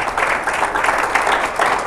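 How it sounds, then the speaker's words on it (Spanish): A church congregation applauds, producing a loud, dense, continuous clapping that swells in gentle waves over a short span. "¿Cuántos dan un fuerte aplauso al Señor?"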